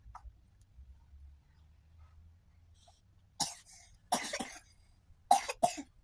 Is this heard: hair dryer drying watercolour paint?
no